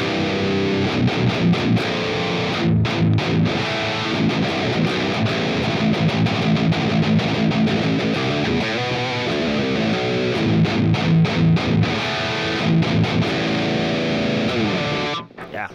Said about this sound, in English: Let's add some drive to it and crank up some more tones.